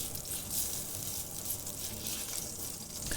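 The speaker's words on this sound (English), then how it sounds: "We got a sizzle." Shaved steak hits a hot pan with white and yellow onions nearby, giving a steady, close crackling sizzle that holds evenly for a few seconds with no talking over it.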